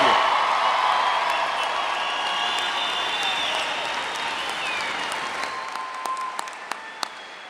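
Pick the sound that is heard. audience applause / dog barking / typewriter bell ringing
audience applause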